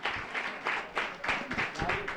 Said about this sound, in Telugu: మనం మరి గట్టిగా చప్పట్లు కొడదాం.